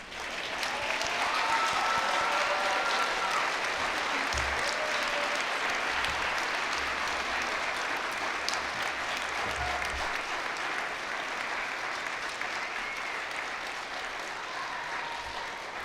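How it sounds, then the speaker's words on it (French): Graduation ceremony audience applauding steadily for the full stretch, a dense, even wash of clapping from a large crowd with a few faint tonal sounds drifting over it. "je vous invite à les applaudir chaleureusement"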